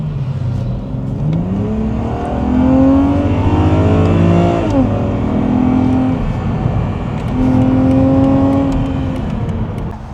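A 265 hp BMW Z4 E86 accelerating hard while merging onto an expressway, its engine climbing through rising pitch sweeps in two pulls with a gear change between, loud and steady from inside the cabin.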